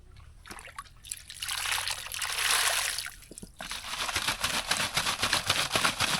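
Water trickles and sloshes as a bottle is scrubbed clean with sand while water is drawn in a village, a steady wet rinsing sound with a louder swirling burst in the middle.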